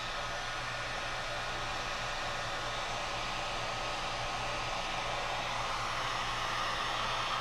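Heat gun warming vinyl wrap on a Honda Grom motorcycle fork, a steady close blowing hiss that runs unbroken throughout with no talking.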